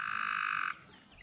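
A frog gives one loud, close, buzzing croak lasting under a second, then stops, leaving quiet background.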